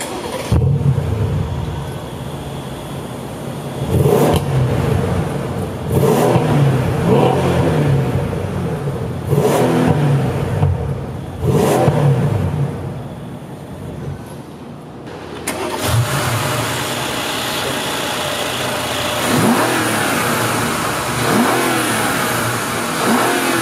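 The 2016 Mercedes S63 AMG's twin-turbo 5.5-liter V8 barks to life and then rises and falls in a series of strong revs and accelerations, close and loud, settling between bursts.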